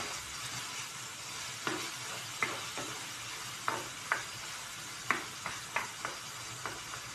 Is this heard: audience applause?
no